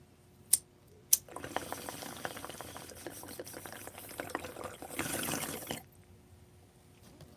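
Hydrogen water poured into a container, two sharp clicks followed by a few seconds of steady fizzing, bubbling liquid that builds slightly before stopping, close and quiet.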